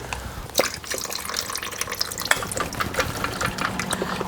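Thick, syrupy fuel mixed with bar oil drains from the tank of a STIHL MS290 chainsaw, trickling and dripping in an irregular stream of close, wet splashes and patters.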